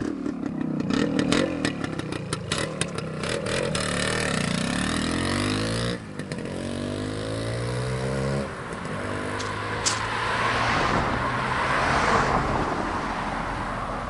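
A 1974 Suzuki TS250L two-stroke motorcycle revs and pulls away, its buzzy engine note rising and falling through the gears as it rides off, fading somewhat into the distance.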